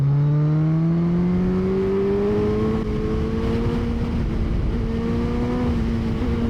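A Suzuki Hayabusa motorcycle engine accelerating on an open road, a loud steady rising whine that climbs through the revs with brief dips where the power cuts at each gear change, close and continuous with no talk.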